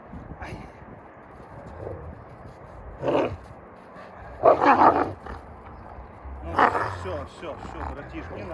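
A Yakut wolf gives several short growling, barking bursts spaced a second or so apart at close range, while people talk over and between them.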